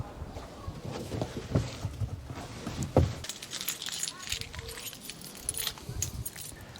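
Car keys jangling in the boot of a Mk1 Ford Focus: a few quick metallic jingles around the middle, close and fairly faint, among soft handling noises and light rustling.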